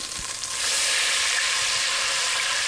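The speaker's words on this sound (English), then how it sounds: "tomato paste, give that a quick saute" Tomato paste sautéing in a pan for a pork ragu, a steady loud sizzle that swells after a brief quieter start and holds continuously, close up with no talking.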